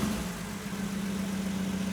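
Vintage milk truck engine running after a freshened-up intake and exhaust manifold repair; a smooth, steady low idle hum, close and continuous with no voices over it.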